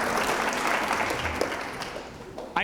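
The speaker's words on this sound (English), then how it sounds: "Give her a round of applause." Audience applause at a live comedy magic show, a steady wash of clapping from the crowd that fades slightly toward the end, with a brief voice near the close.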